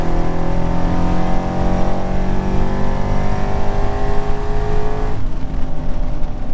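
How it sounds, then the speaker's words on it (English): Drift car engine revving hard with a loud, rough, sustained roar that drops off sharply near the end, with no voices. "My car kind of sounds like a really clapped out Mustang."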